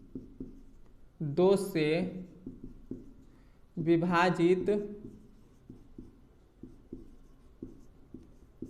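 Writing on a board during a Hindi-medium Class 10 maths lesson, with steady scratchy strokes heard up close under and between a teacher's speech.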